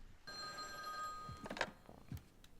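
A telephone bell rings once in a steady tone lasting roughly a second, followed by a few faint clicks and brief voice sounds as it is picked up.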